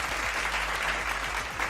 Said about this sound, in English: Give it up, everybody, for Laurie Calcaterra.